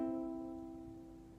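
One ukulele chord strummed once, its sustained strings ringing and gently fading, quiet and alone with no voices.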